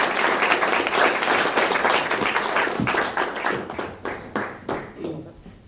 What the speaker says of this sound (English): So please, round of applause for Chris Filiatrault, please.